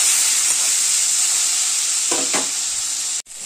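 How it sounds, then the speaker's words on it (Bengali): Chopped tomato frying in hot oil in a pan gives a steady loud sizzle and hiss throughout, with a couple of brief stirring scrapes near the end and no talk. "টমেটোটা অল্প একটু ভাজা হয়ে গেছে।"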